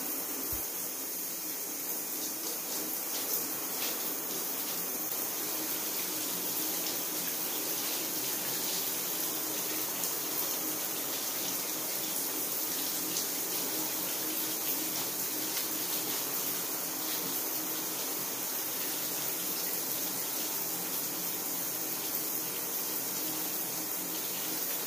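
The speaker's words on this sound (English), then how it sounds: "So after I rinse out the conditioner" Steady hiss of tap water running continuously while conditioner is rinsed out of curly hair, an even, fairly quiet stream with no talking.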